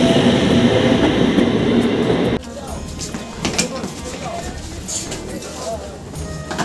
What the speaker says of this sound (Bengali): আর এই পিছনে সেই ট্রেন